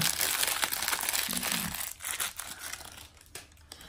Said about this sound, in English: So let's peel the plastic off.